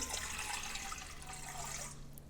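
Soft, continuous pour of 1.5 cups of warm water into a mixing bowl for gluten-free focaccia dough, a faint liquid splashing that tapers off near the end.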